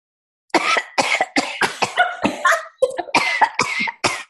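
A run of about a dozen sharp, harsh coughs in quick succession, close and loud, after a brief silence.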